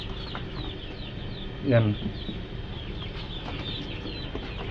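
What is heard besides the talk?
chickens clucking in their new coop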